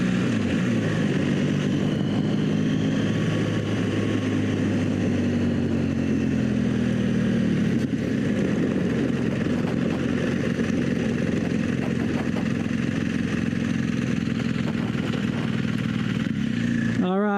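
An adventure motorcycle on Michelin Anakee adventure tyres runs near a single-track trail, its engine droning loudly and continuously with a few shifts in pitch, ending in a short burst of revving.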